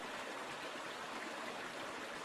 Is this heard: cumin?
no